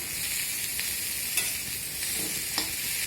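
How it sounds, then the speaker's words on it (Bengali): Potatoes and spiny gourd frying in hot oil, stirred steadily in the pan, giving a continuous even sizzle with a few soft scraping strokes of the spoon, close and alone. "এখন আমি ওই তেলের মধ্যে আলু আর কাঁকরোলগুলোকে ভেজে নেব।"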